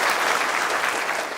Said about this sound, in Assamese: এটা হাত চাপৰি জোৰে বজাই দিয়ক